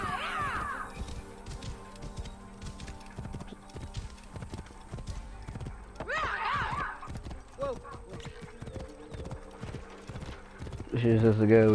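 In a video game, a horse's hooves clip-clop in a steady rhythm while the horse whinnies several times. A voice talks over parts of the sound.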